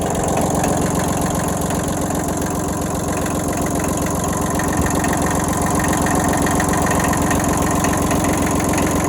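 Kubota diesel tractor engine idling close up, a loud steady low chugging with a fast even rhythmic knock, continuous with no talk.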